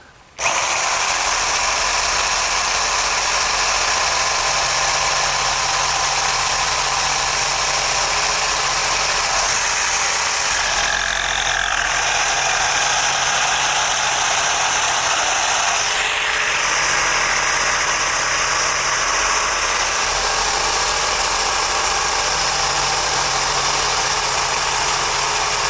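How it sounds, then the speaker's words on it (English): A jigsaw makes cross cuts in wood, a loud, continuous buzzing motor with a fast reciprocating rasp that holds steady for the whole stretch, shifting slightly in pitch as the blade moves through each cut. "I'm going to use my jigsaw and my square to make the cross cuts."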